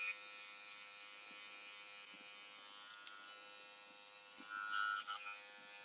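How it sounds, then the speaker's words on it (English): A zero gap hair trimmer hums steadily at close range during a haircut, a faint, even electric buzz with small clicks and a brief louder bump near the end. "With my zero gap trimmer"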